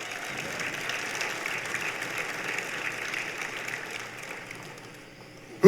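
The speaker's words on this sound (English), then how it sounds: "Let's give Steven a round of applause so he can hear us." A crowd at the 2025 CSUB Athletics Hall of Fame induction ceremony gives an inductee sustained, dense applause that holds steady and then fades slightly before a sharp knock at the end.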